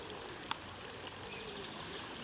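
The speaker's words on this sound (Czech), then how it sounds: "Tak ta voda je úplně znečištěná." A stream of polluted, foul-smelling water flows steadily and fairly quietly outdoors, with one brief sharp click partway through and no talking.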